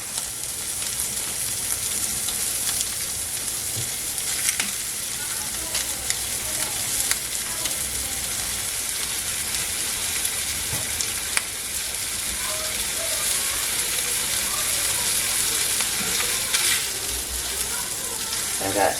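Leftover ham sizzles in a frying pan, a steady crackling hiss with scattered pops and occasional scraping that continues throughout.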